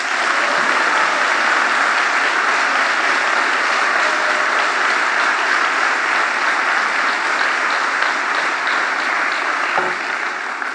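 Audience applause at a party rally in a hall in Landau, Lower Bavaria: dense, steady clapping from a large indoor crowd of several hundred guests, loud and sustained for about ten seconds with no speech on top.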